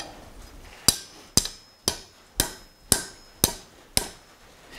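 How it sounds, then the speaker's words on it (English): Blacksmith hammering hot metal at a forge while making a tool rack: seven sharp, ringing hammer strikes land at a steady, even rhythm, each one loud and close with a short metallic decay, and no talk over them. "and we'll get to hammering"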